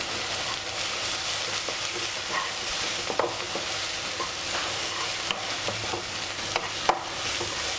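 Masala sizzles hard in hot oil while being stirred for a mutton keema curry with drumsticks. A continuous loud crackle carries steady scraping strokes, with a couple of sharper clicks from the utensil.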